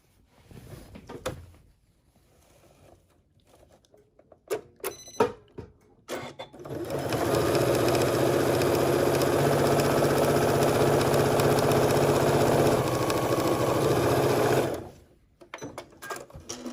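A sewing machine stitches the opening of a fabric storage basket closed, running in one steady, loud, continuous burst for about eight seconds after some light handling clicks, then stopping abruptly.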